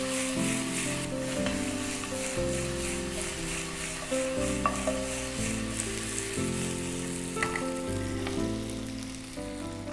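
Chicken wings frying in a pan, a steady close sizzle with occasional stirring clinks, playing under background music with no talking.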